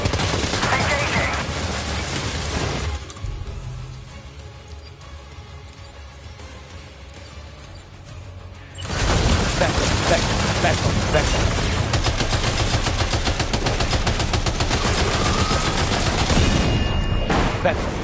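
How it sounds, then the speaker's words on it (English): Sustained bursts of automatic gunfire and heavy firing from a war video game, loud and dense for the first few seconds, then a quieter lull with muffled rumble, before intense rapid gunfire resumes and continues to the end. "Opening fire now."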